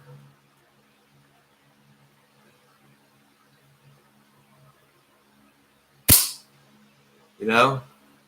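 A slingshot fires twice: a sharp snapping crack, then about a second and a half later a second, broader whooshing release, both loud and close in otherwise near silence.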